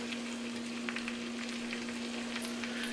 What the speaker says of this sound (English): Next, I'm going to put in 1 teaspoon of the lime juice.